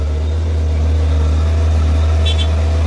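An orange Fuso truck's engine runs in second gear on a narrow road, a loud, steady low droning rumble that continues throughout, close by and without talk.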